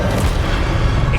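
An Expelliarmus spell is cast in Hogwarts Legacy, a loud dense magical boom with a dull, rumbling blast that fills the brief moment, with a voice mixed in.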